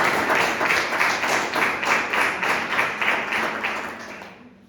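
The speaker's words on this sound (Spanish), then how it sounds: "Y un aplauso para ustedes," A church congregation claps in a steady rhythmic beat for the women, the sound full and close, then fading out to silence at the end.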